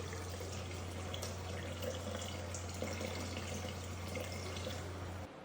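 Unwarmed filtered water runs and splashes steadily into a container, a continuous trickling under a low electrical hum, ending with a brief drop in sound.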